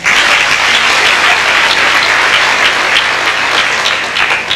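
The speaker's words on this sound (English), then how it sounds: "Give a round of applause." Loud, dense applause from an audience at a middle school awards banquet fills the room continuously, a thick, even wash of many hands clapping with no speech.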